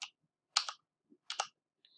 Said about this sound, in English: When I hold it and release it afterwards, you can hear my keyboard.